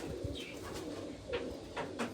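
A pigeon in a loft gives soft, rolling coos, close and alone, with a few short sharper calls breaking through toward the end.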